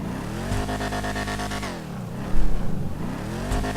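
A Vapid muscle car engine in Grand Theft Auto 5 revs hard and loud, dipping and climbing in pitch through several throttle blips, with a wobbling exhaust note and no voices.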